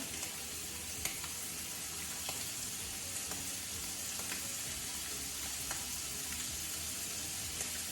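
Scallops searing in a hot pan, a steady close broadband sizzle with faint pops and crackles, continuous and without speech.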